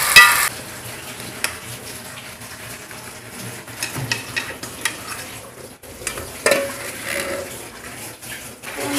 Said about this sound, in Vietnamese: Cà chua xào chín đến mức độ như thế.